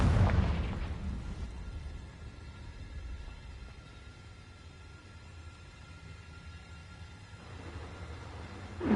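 A Confringo spell blast in Hogwarts Legacy, a loud burst at the start that fades into a long low rumbling tail before another swell at the end, with no voices.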